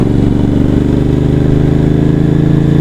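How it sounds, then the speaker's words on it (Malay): A Moto Morini X-Cape 1200 motorcycle idles close by, a loud, steady, rhythmic low engine thrum that holds even throughout with no talking. "Memang ni motor lah bang"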